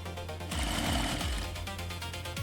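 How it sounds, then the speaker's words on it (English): An industrial sewing machine runs at speed on bamboo fabric T-shirts in a garment factory, a steady, fast mechanical whir and rattle with a brief louder surge. "T-shirt assembly begins with simple seams and fast sewing operations."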